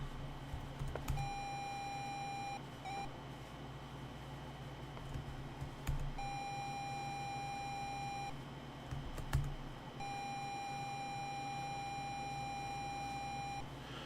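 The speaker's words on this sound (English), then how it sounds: "I don't know what's with the beeping, honestly." Repeated electronic beeps from the 1986 DOS computer game Basic Computer Adventures sound in three long steady tones separated by gaps, with a few short clicks and a faint hum underneath and no talking.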